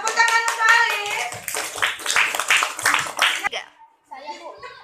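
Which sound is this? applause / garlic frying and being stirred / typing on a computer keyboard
applause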